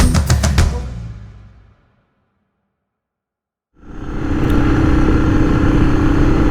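A motorcycle rides up Alder Point Road near Garberville, its loud engine rumble fading to silence before steady engine and road noise with wind rush returns close and strong.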